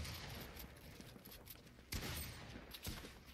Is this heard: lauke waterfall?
no